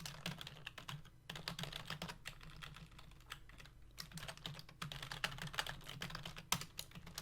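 Rapid typing on a computer keyboard, dense clicky keystrokes in bursts with short pauses, close but quiet, with no speech.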